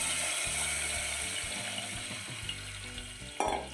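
Tomato rasam poured into a hot pan of tempering with hing, giving a steady sizzle and frying hiss with light clinks of the vessel, close and without talk, ending on a sharper burst.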